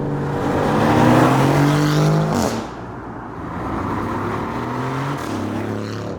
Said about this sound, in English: The exhaust note on this thing is amazing.